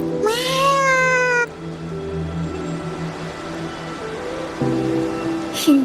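A white cat in the video game Wuthering Waves meows in a long, high, wavering call near the start, alone over a soft ambient game bed, with another brief meow at the very end.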